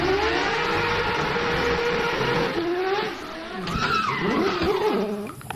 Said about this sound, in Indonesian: Widih, mobil balap teman-teman.